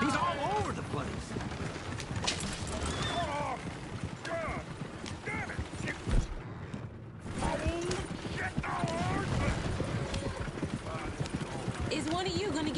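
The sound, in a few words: horse hooves clip-clopping, from a video game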